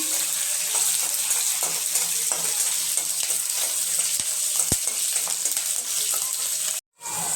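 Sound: green chilies frying in pan for upma

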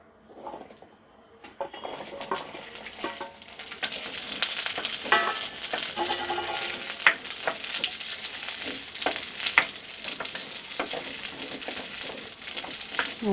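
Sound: small onions frying in sesame oil

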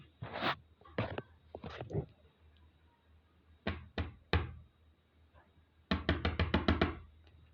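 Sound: knocking on a door

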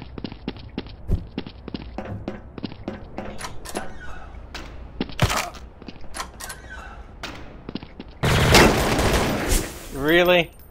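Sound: pistol gunfire in the video game Counter-Strike: Source

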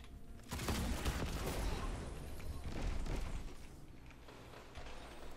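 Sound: shotgun gunfire in a video game

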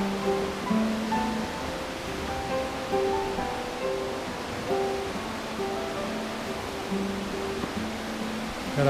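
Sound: waterfall at Big Spring, Missouri

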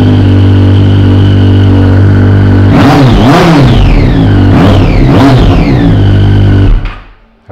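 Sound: Triumph Street Triple 675 starting up with Leo Vince exhaust

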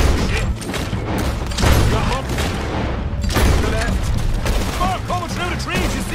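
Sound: gunfire in a shootout, video game Red Dead Redemption 2

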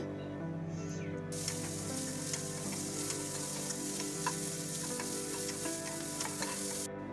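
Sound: fenugreek seeds spluttering in hot coconut oil

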